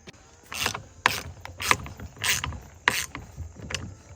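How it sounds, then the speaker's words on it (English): Wrench ratcheting while tightening the bolts of a shed ramp kit, a series of close metallic clicks and short rasping bursts in an irregular rhythm, with no talk. "we're going to tighten this up with a wrench."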